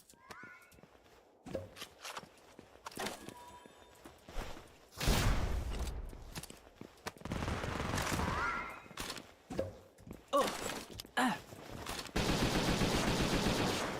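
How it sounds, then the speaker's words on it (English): AK rifle gunfire in a video game, sharp shots and rapid bursts scattered among footsteps, clatter and other game effects, loud and busy throughout. "we're using the AK"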